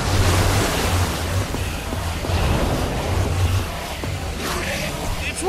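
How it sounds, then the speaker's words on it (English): Water gushes and roars after a lever is pulled in Minecraft Story Mode, a loud, steady rushing wash with surging swells that runs continuously for several seconds. "I don't know how much water this thing is gonna kick out"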